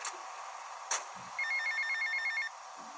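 A payphone rings in GTA Vice City with a steady electronic trill lasting about a second, set over a constant game background hum with a couple of short louder bumps before it.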